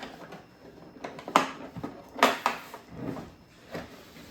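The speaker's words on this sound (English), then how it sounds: "So you can slide off this cardboard sleeve" A cardboard sleeve slides off a plastic carrying case for a Milwaukee Fuel hammer drill and impact driver. Quiet scrapes and rubbing come with a few light knocks and bumps, close by, with no voices.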